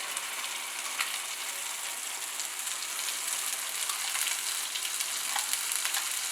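White cashew paste with cumin frying in butter for a methi matar malai curry, giving a steady close sizzle with faint crackles and stirring, and no talk.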